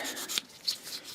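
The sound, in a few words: sanding a model figure with finer grit sandpaper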